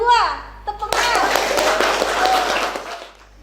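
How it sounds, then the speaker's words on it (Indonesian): A class of vocational high school students in a classroom breaks into dense, sustained applause right after a teacher's brief spoken line, the clapping steady for about two seconds before fading. "Tepuk tangan."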